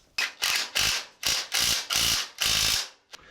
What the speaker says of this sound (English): Time to wire up the winch and test this thing out.